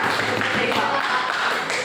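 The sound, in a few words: classroom applause, clapping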